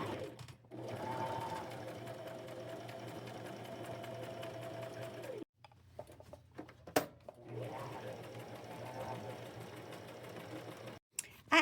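A sewing machine stitching appliques onto bib overalls, a steady close mechanical whir that runs, stops briefly, then resumes with some soft handling clicks and thumps.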